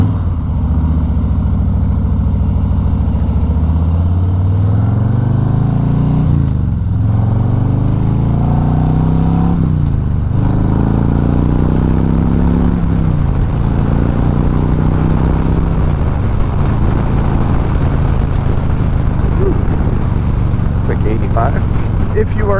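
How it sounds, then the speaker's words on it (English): A tuned 2021 Harley-Davidson Low Rider S motorcycle engine runs loudly and close, with several rising revs and gear changes under continuous rumble, and a voice talks over it. "This is a 2021 Harley-Davidson Lowrider S. I've done some minor upgrades to it, some updates and engine tuning"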